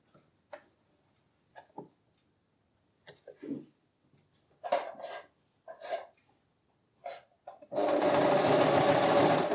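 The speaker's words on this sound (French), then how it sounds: "je couds les deux petits bouts en haut de mon sac" Sewing machine stitching the top ends of a cloth tote bag: scattered short clicks and taps, then a loud continuous run of stitching for the last couple of seconds.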